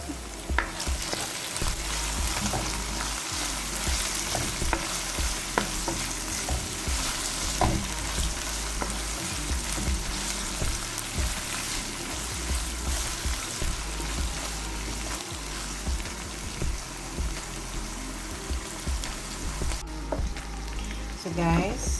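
Red capsicum and mushrooms frying in a pan for a creamy chicken pasta, a steady close sizzle with scraping stirs and occasional clinks throughout.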